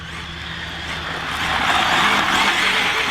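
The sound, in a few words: ZD Racing EX-07 RC car drifting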